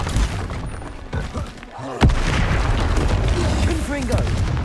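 An Expelliarmus spell goes off in Hogwarts Legacy with a sharp, sudden crack near the middle. It is followed by a loud, rumbling, explosive wash over busy battle noise, and a voice is heard under it.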